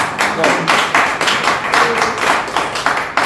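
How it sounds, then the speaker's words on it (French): Audience at a testimonial gathering claps in a brief burst of rhythmic, fairly loud applause that carries on for a few seconds. "On applaudit."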